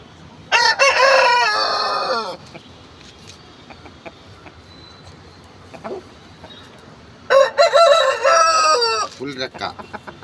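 Fighting-breed roosters crow loudly and close by, two long cock-a-doodle-doo calls with soft clucks and short calls between them.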